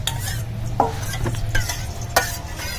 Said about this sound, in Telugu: ఇంకా స్పూన్తో కలుపుతున్నాను